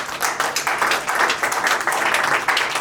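A room of attendees claps steadily for a speaker at a career event, a dense, even patter of many hands that holds at a steady level throughout with no talk over it.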